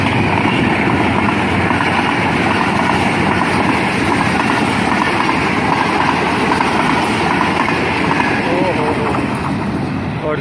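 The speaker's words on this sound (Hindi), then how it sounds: "बहुत तेज़ रफ्तार से ट्रेन गुजर के गई है यहाँ पे" A train rushes past at high speed through an abandoned, disused railway station, a loud continuous roar with steady rumble throughout and no pauses.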